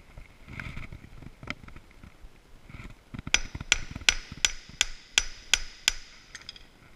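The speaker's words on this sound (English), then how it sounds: "we just bend down and give that a good hammer closed." Eight sharp metallic hammer strikes in a steady rhythm, close and loud, hammering tie wire closed on a wire snare, following a stretch of softer handling noises and rustling.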